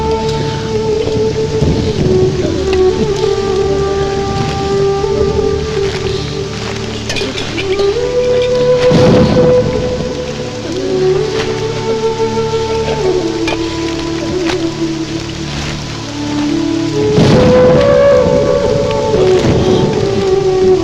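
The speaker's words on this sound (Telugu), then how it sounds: "ఇప్పుడు అర్ధంతరగా ఈ వర్షం పట్టుకుంది" Heavy monsoon rain pours steadily throughout, with several loud thunder rumbles and cracks rising over the downpour, while sustained tonal drones and shifting melodic notes, likely film score, play underneath for the whole stretch.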